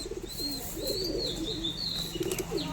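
A Jack Madi pigeon cooing softly in repeated low throaty phrases, nearby, with faint chirps and rustling around it.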